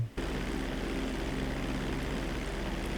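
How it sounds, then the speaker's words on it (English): Private jet engines roar in flight, a loud, steady broadband drone that holds without a break after a brief quieter moment at the start. "I'm on a private jet. I can barely hear you. The engines are so loud."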